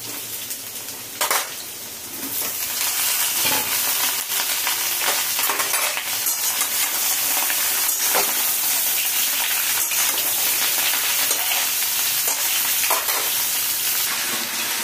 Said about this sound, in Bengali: ঝিঙা ভাজা হয়ে গেছে